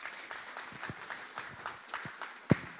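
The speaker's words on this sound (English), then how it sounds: "Let's give him a round of applause." Audience applause at a hybrid Rotary club meeting after a guest presentation: a modest, fairly quiet patter of clapping from a small room, with one sharper, louder clap near the end.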